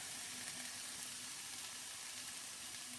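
Mince sizzles in a frying pan, a constant, close hiss and crackle that stays even throughout without any talking.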